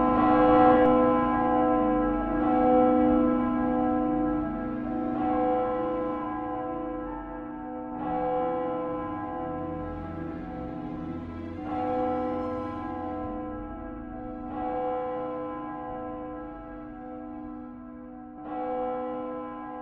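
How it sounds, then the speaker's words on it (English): A church bell tolls at night, slow rich strikes about every three seconds with long ringing decay, moderately distant and alone. "A bell that was removed centuries ago, still ringing"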